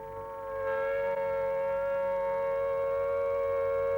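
A wartime air raid siren sounds a loud, steady, sustained wail of layered tones. It rises in after a brief quiet start and holds level to the end, with no voices.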